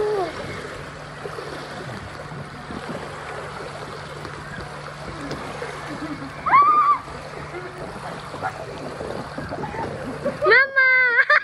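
Water splashes and gurgles into a small boat as it swamps and sinks, a continuous close watery wash with sudden louder surges, while excited voices shout over it.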